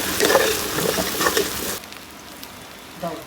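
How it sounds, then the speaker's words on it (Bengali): Potatoes and onions fry for a duck curry, producing a loud crackling sizzle with stirring for nearly two seconds before it drops to a quieter background hiss. "আলুগুলো একটু ভাজা ভাজা করে নিচ্ছি।"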